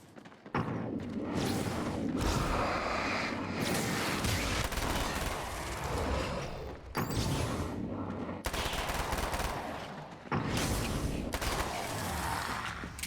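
Machine gun fire in Alan Wake's American Nightmare, a steady dense rattle of rapid shots over a noisy game background, broken by a few short pauses.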